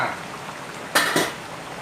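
A utensil scrapes and knocks against a pot while Thai tilapia curry with noni leaves and coconut milk is gently stirred, two short clinks over a soft simmering background.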